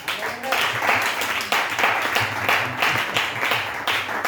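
A church congregation applauds in rhythmic, steady clapping with cheering voices mixed in, loud and continuous across the room.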